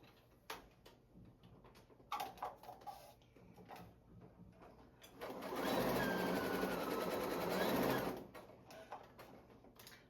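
A home sewing machine stitches steadily around the edge of a fabric pillowcase-style project in a sustained burst of a couple of seconds mid-clip, bracketed by quieter handling clicks and taps before and after.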